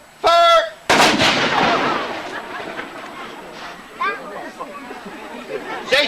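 Artillery gun firing during a gunnery display by a depot company at a historic fort: one loud, sharp blast with a long rolling echo that fades under a crowd murmuring in the distance.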